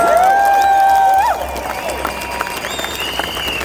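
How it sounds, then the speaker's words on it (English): A large crowd at an outdoor freedom rally in Perth applauds and cheers after a singer, diffuse clapping and cheering under a sustained high tone and other overlapping sounds, loud at first then easing off. "Give her a big round of applause."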